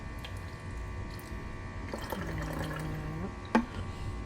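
Sugar water being poured into a hummingbird feeder, a steady trickling stream filling the container close by, ending with a brief clink.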